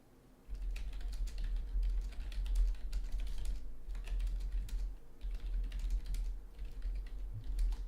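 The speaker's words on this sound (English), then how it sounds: "I'm typing hand-ins about a thing while these guys set up their builds" Rapid typing on a computer keyboard during setup for a land battle tournament, a continuous patter of close key clicks over a low steady hum, with no talking.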